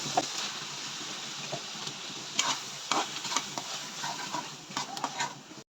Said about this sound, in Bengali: এভাবে কিছুক্ষণ সময় ধরে শিং মাছগুলোকে আমি কষাবো